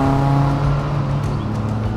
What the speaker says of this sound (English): its beating heart, this fabulously revvy little 2-litre engine, which delivers its power in such an earnest and linear way